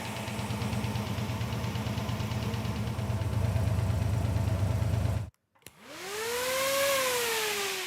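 A Gasser Chevy engine idles steadily and loudly with a rough, pulsing knock for about five seconds, cuts out briefly, then revs back up with a rising and falling whine.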